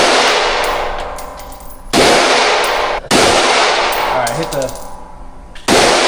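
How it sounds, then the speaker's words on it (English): A rifle fires 5.56 rounds in semi-automatic at a car meet, with loud, sharp cracks at spaced intervals and a brief metallic clang, while a voice speaks briefly. "you can just shoot in semi if you want"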